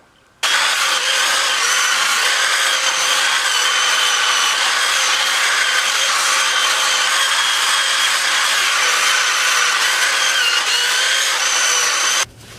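A power tool grinding old anodizing off a Suzuki GS1100E motorcycle wheel: a steady, loud, high-pitched whine that starts abruptly, runs unbroken for about twelve seconds, then cuts off.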